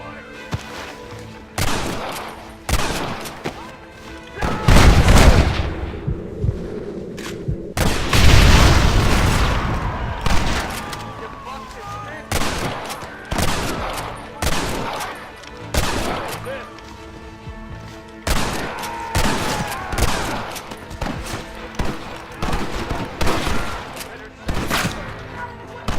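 Gatling gun fire in the Red Dead Redemption video game, loud rapid bursts of shots that come in repeated volleys, with booming reports and voices shouting between the bursts.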